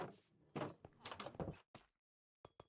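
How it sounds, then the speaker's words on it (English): Bamboo doors in a block-building video game open with short hollow clacks and knocks, a cluster of rapid taps followed after a pause by two quick separate clicks, fairly quiet. "So we have our bamboo door here to let us in."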